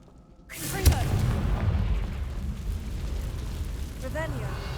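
A Confringo blasting spell goes off in Hogwarts Legacy with a sudden deep boom, followed by a rumbling roar that fades slowly, and a voice calls out the spell as it is cast.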